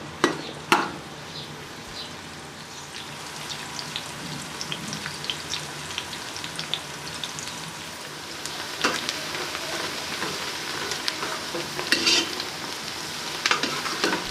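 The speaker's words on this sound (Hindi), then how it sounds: "प्याज को अच्छे तरीके से फ्राई करेंगे।" Chopped onions fry in a pan for masoor dal, giving a steady close-up sizzle with crackling and occasional stirring scrapes, gently building in intensity with no speech over it.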